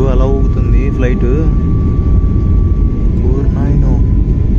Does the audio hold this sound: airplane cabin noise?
yes